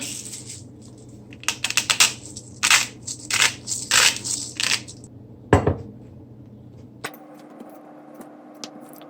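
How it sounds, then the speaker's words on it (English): An egg whisked briskly in a bowl with salt for egg fried rice: bursts of quick clicking and scraping strokes over a low steady hum, then the whisking stops and a quieter room tone follows. "You're going to whisk the egg."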